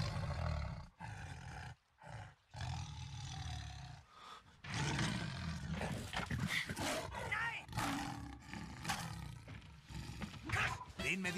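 Three Siberian tigers in front of a tamer roar loudly in harsh, rumbling bursts, with a few short gaps early on before a long, continuous stretch of growling roars.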